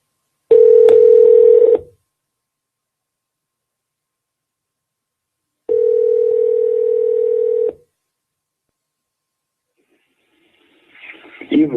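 Steady telephone tone sounds in two long bursts about two seconds each, separated by silence, while a call is placed to a cell phone; a faint rustle follows at the end.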